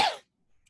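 A single short, sharp cough from a woman with allergies is heard up close and alone, followed by near silence.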